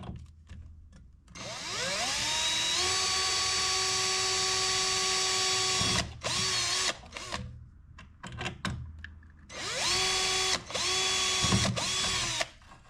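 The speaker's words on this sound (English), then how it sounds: "So right here I'm just kind of marking my holes before I start drilling." Power drill boring screw holes for mounting a light switch on a mini Jeep, its motor whining loud and close in two long sustained runs with short stop-start bursts between them.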